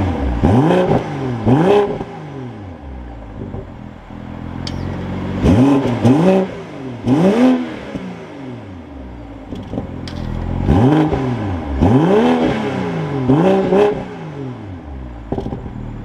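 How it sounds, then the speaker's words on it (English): The engine of a 2022 BMW M340i sedan cranks and revs repeatedly, rising and falling in loud close sweeps with brief idle gaps between the blips. "keeping my foot on the brake, we can go ahead and fire it up"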